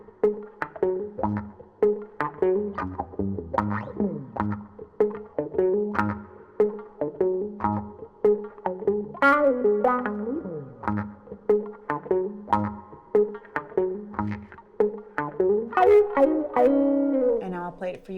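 A distorted electric guitar plays short, slowed-down pentatonic licks with quick hammer-on legato note changes, phrased in bursts and heard clearly on its own.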